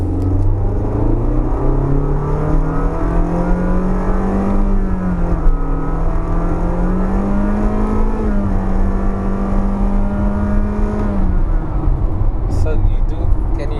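A 2024 Honda Elevate SUV engine with a CVT gearbox drones loudly at full throttle, its pitch rising steadily then easing off near the end, with constant road rumble underneath.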